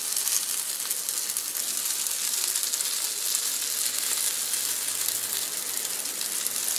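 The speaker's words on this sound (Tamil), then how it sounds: "எண்ணெய் காஞ்சிருச்சுன்னா நம்ம பணியாரம் ஊற்றிக்கலாம்." Paniyaram batter frying in hot oil in a paniyaram pan, a steady, bright hissing sizzle, close and continuous, with no talk.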